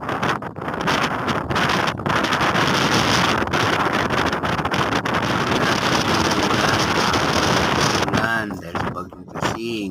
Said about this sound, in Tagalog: Malakas kasi yung hangin